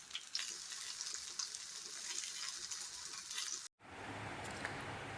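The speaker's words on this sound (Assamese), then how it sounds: "কলৰ মালপোৱা আৰু এইফালে এয়া ভাজি বনাই আছোঁ" Loud, dense sizzling of banana malpua frying in hot oil, broken by a brief cut, then sizzling resumes more softly.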